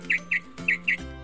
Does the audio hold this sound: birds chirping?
yes